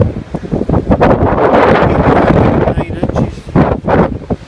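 Strong wind buffets the microphone in continuous heavy gusts on an open beach at Falmouth, with occasional talk mixed in.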